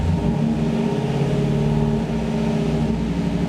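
A Trans Am with a swapped LTx engine and 6L80e transmission revs steadily up from idle, its dense mid-low exhaust drone loud and close and holding for several seconds.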